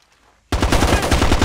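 A gun emplacement in Ghost Recon Advanced Warfighter 2 bursts into loud, rapid automatic fire after a half-second of near silence, with steady fast shots continuing to the end.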